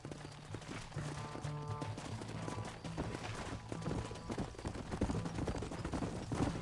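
Hooves of a horse galloping in a PS4 western-style video game, a steady, continuous clip-clop under busy game music and effects, moderately loud throughout.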